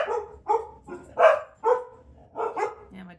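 Dogs bark in short separate bursts, about six barks spaced unevenly over a few seconds, fairly close and clear with no talking over them.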